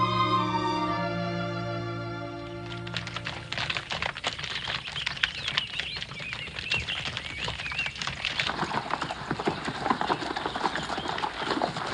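Horses' hooves clip-clop in a steady, close patter through a 1959 western film scene, beginning after a few seconds of sustained tonal music and continuing alone without talk.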